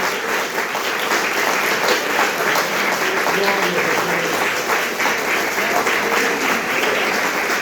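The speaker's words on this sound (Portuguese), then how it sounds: "Dê mais uma salva de palmas" A church congregation breaks into applause during a Portuguese-language sermon, a steady, dense wash of clapping from many hands that holds evenly for several seconds with some voices mixed into the crowd noise.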